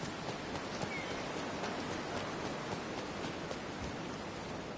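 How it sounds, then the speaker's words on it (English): Steady rainfall in Disney Dreamlight Valley patters continuously, a dense even hiss of drops with no voices, moderately quiet throughout. "Now that it's raining there."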